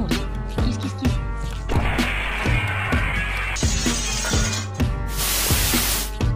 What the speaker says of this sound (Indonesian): nanti nabrak kaca.